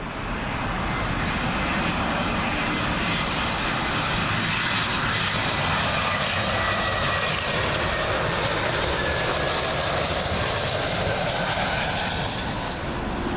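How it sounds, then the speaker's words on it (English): A British Airways Airbus A319 arriving from Aberdeen on Heathrow's 27L runway roars low overhead on approach, a loud, continuous jet engine rumble and hiss that holds steady throughout, alone without talk. "British Airways A319, who looks to be all over the place at the moment, but he's arriving in from our good friends up at Aberdeen"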